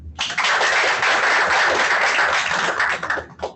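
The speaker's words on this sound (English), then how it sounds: "I'd like a round of applause for our guests from University of Technology in Jamaica." A seminar audience applauds visiting university guests with dense, steady clapping that starts almost at once, holds loud for about three seconds, and then thins out near the end.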